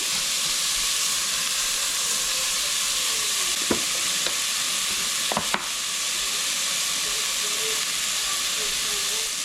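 Vegetables sear in a very hot pan, giving a loud continuous hiss and sizzle up close, broken by a couple of sharp clinks and scrapes from stirring, with no one talking.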